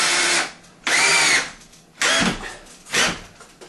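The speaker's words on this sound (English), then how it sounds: "I'm going to go ahead and put another screw in down here." A cordless power drill drives a screw into wooden backing behind sheetrock, four short whirring bursts with pauses between, close up and with no speech.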